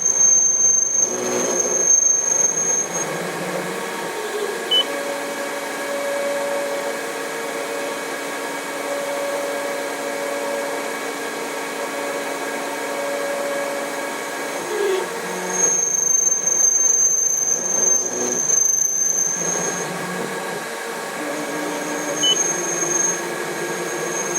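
A Denford ORAC CNC lathe cutting a tapered outside radius at a slow feed, a steady close whine with humming tones throughout and a louder burst of noise partway through.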